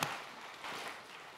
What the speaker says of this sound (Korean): 큰 박수로 하나님 앞에 영광 돌리겠습니다.